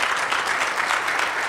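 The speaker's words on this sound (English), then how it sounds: "So can we give a round of applause?" A town hall audience at a tornado response meeting breaks into applause, a dense, fairly loud burst of many hands clapping together with a slightly pulsing texture throughout.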